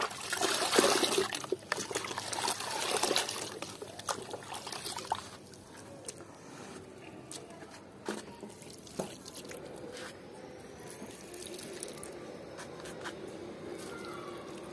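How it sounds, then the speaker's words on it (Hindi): Water poured onto the soil of a potted adenium plant, a steady splashing trickle that is loudest at first and then settles into softer dribbling and drips, close by with no talk. "इस टाइम पे इसको पानी अच्छी तरीके से दे दिए कि ताकि नीचे तक पानी सॉइल में पहुंच जाए।"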